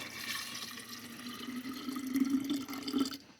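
Ivory soap water poured into a rock tumbler barrel makes a soft, close trickling and splashing pour that swells and then stops abruptly, with no talk.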